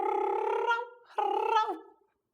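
A female cat in heat gives two long, drawn-out yowling calls, close and loud. The calls come one after the other with only a short gap between them, each wavering and falling at the end before silence.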